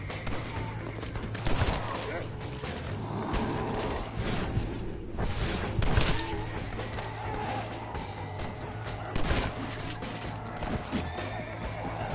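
Blunderbuss shotgun blasts in Red Dead Redemption: Undead Nightmare, several loud booming shots at irregular intervals over game noise, with horse whinnies and crashes mixed in and a voice talking over parts.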